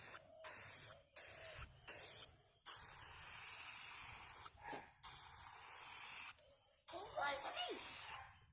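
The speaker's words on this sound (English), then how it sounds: "nice controlled spray" An aerosol can sprays paint onto a barbecue being restored in a series of hissing bursts, some short and some held for several seconds, close by with brief pauses between.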